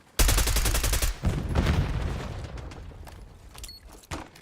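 Rapid automatic gunfire from a shooter video game bursts loudly for about a second, followed by scattered shots, rumbling impacts and a final sharp report as the sound fades.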